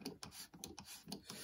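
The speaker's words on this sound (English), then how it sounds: "now going to tap each one with a 1/4-28 tap, and it goes in nice and easy" A 1/4-28 threading tap cuts threads into a phenolic Kreg router-table insert plate, giving faint, close rasping scrapes in short uneven bursts as the tap is turned.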